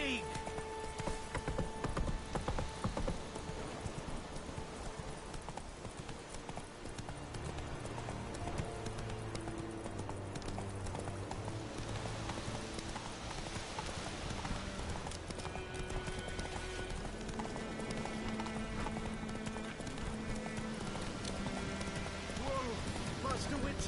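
Hoofbeats of a galloping horse in the video game Witcher 3 drum steadily under game music and brief voices, continuing loud and even throughout.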